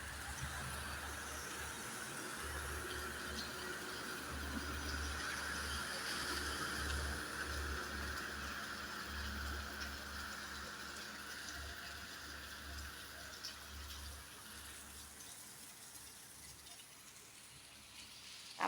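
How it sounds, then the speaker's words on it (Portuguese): Heavy rain pours steadily in Piauí, a continuous dense wash of water noise with a low rumble underneath, holding at an even moderate level throughout. "Ó, muita água, muita chuva."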